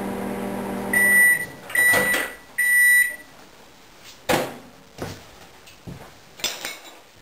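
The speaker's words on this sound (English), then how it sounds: "So I'm going to put this in the microwave for about 50 seconds" A microwave oven heating solid coconut oil gives three loud, close beeps in a row, followed by scattered clinks and knocks of kitchen dishes and a low background hum.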